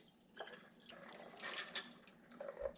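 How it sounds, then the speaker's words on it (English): Pinto beans being washed by hand in cool water, with soft, intermittent watery swishing and splashing close by, brief liquid movements rising and falling across the short stretch without speech. "Just swish it around with your hand."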